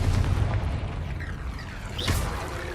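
In Hogwarts Legacy, a Confringo fire spell bursts with a loud low boom and rumble, followed near the end by a sharper crackling impact over continuous game ambience.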